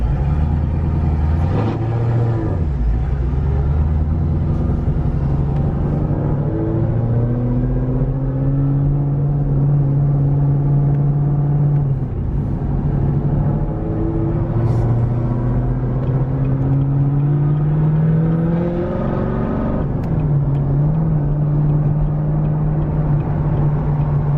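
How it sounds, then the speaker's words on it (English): A 1000-horsepower Chevrolet Camaro ZL1 cruises on a highway, its engine a loud, steady low drone heard from inside the cabin, with the pitch rising through gears and dipping briefly at shifts. "I'm gonna see if I can take it a little bit on the highway."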